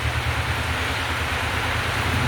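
Heavy rain pours steadily at home during a wet spell, a dense, loud, unbroken hiss filling the space with no voices.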